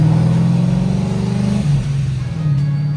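Procharger F1A supercharged Mustang GT pulling away in second gear, a loud, close engine drone with a steady low tone that dips briefly midway, then carries on strongly.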